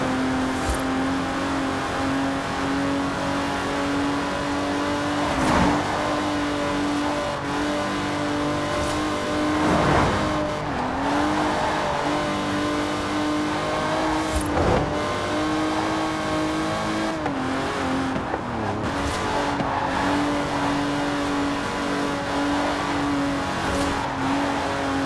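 Aston Martin DB5 Vantage, a 1960s British grand tourer with side-draft carburetors, driven in the racing game Forza Horizon 4: a loud, steady engine drone that rises and falls with repeated revs and shifts throughout, with no voices.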